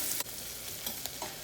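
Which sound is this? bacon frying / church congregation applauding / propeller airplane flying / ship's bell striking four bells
bacon frying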